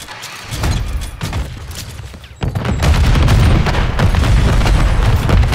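Heavy grenade blasts and gunfire in a Call of Duty Search and Destroy match on Blacksite, several booming bursts with a sharp jump to sustained loud rumbling, close and chaotic.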